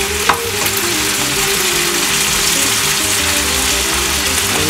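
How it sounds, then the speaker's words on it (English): Pancit ingredients frying steadily in a pan as they are turned over, a continuous close sizzle with a brief clatter near the start and no talking. "I'm just turning these over and let them cook the rest of the way."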